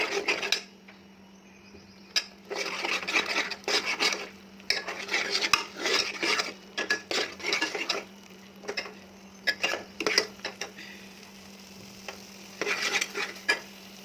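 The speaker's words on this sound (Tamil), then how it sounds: "விழுது சேர்த்தாச்சு. மிக்ஸ் பண்ணிக்கலாம்." A spoon stirs ground masala paste into a curry base in a pan for mutton kuzhambu, giving intermittent scraping and sloshing bursts with short pauses, moderately close and without talk.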